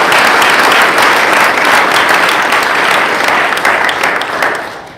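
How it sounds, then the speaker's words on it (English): An audience at a climate-themed political event gives warm, loud, sustained applause for Governor Inslee and Senator Patty Murray, a dense crowd of clapping hands that holds steady before tapering off at the end. "So please give a round of a warm applause for Governor Inslee and Senator Patty."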